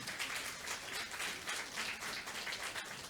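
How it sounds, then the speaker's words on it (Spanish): A church congregation at a New Year's service claps for a sister invited forward, a steady, fairly faint wash of many hands applauding without pause. "También invitamos a la hermana Elizabeth Valverde, con un fuerte aplauso."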